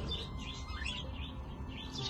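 Baby birds chirp in a nest, thin high cheeps repeating faintly over a low background hum, with no voices.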